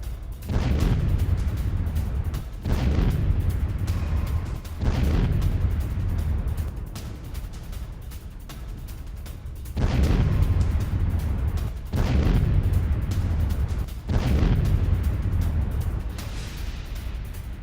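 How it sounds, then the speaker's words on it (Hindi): Missile strikes on Russia in war news footage: a series of heavy, booming explosions, roughly six deep blasts a couple of seconds apart, each rolling and decaying into the next, loud and with no speech. "ये रूस पर लाइव मिसाइल अटैक।"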